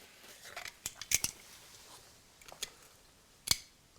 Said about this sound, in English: I can use the scissors to take that section off.